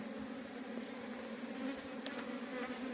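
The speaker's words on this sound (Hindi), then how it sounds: "अब मधुमक्खियाँ जो है नीचे उतर चुकी है" A honeybee swarm that has settled low gives a steady, dense buzz. The hum is continuous and even, close by, with no voices over it.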